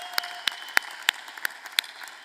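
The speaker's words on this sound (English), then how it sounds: "A round of applause for all these outstanding students." Scattered, sparse claps at a graduation commencement ceremony, a handful of distinct sharp hand claps spaced irregularly over a quiet room rather than a full ovation.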